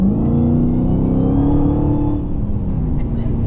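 Dodge Challenger Hellcat Redeye Widebody with 800 horsepower accelerating on the road, a steady loud engine roar rising in pitch, heard from inside the car.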